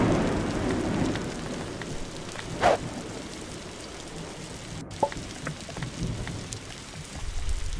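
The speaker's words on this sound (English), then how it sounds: "And it's raining." Steady rain patters continuously in the video game Block Story, with a couple of brief louder pops and splashes standing out.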